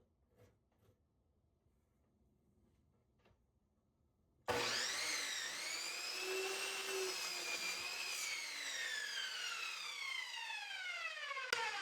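A saw cuts through a wooden 2x4 being shaped into a climbing hold. After a few quiet seconds, a loud, steady whining cut starts abruptly, and its pitch slowly drifts and falls as the blade works through the wood.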